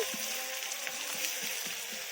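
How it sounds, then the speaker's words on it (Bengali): Onions sizzle steadily with garlic in a hot pan, a continuous hiss broken by soft, regular scraping taps of stirring. "পেঁয়াজগুলো ভাজা ভাজা করে নিচ্ছি"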